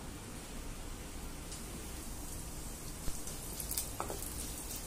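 Half a teaspoon of cumin seeds sizzling in hot oil in a pan, a steady soft hiss and crackle with a few brief pops near the end.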